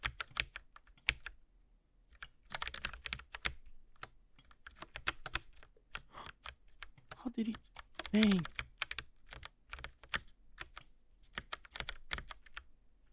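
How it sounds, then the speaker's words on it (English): Quick clacking keystrokes on a Logitech mechanical mini keyboard come in bursts and pauses, close and crisp, while a voice speaks briefly midway. "The sound of the keyboard, like, it's nice."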